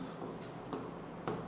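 Pen strokes scratch across paper as someone writes by hand, a soft continuous close scraping with a couple of quick sharper flicks, quiet and without talk.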